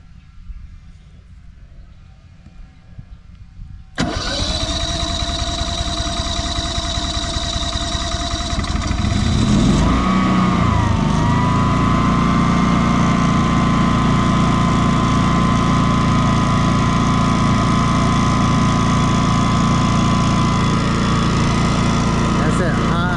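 An inverter generator runs on LP fuel: quiet ticking before a loud startup near 4 seconds, then an engine that revs up around 10 seconds and settles into a steady high-speed drone for the rest.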